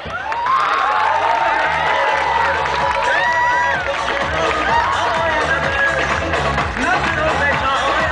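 A school crowd of A-Level students claps, cheers and whoops, with excited shouts and a babble of young voices layered over each other, staying loud and lively throughout.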